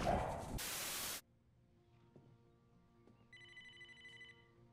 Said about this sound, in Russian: Неужели телефон? Мы думаем, это телефон.